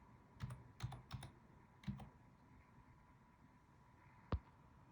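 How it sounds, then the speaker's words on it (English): Typing on a computer keyboard: a short burst of several quiet clicks, then a pause and a single sharper keystroke like pressing enter, close and faint with no talking. "we just typed in the word partition and hit enter"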